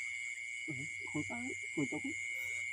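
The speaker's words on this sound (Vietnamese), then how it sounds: "Con ếch." Frog calling at night beside a small pond during a night fishing trip, a few short croaking pulses in a steady chorus of insects or frogs, with a voice briefly nearby.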